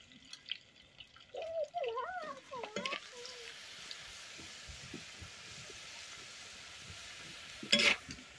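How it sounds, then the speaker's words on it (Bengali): Onions frying in a pan during rural cooking give a faint, steady sizzle. A voice is briefly heard early on, and a sharp clatter comes near the end. "পেঁয়াজ গুলো লাল লাল করে ভেজে নিয়েছি"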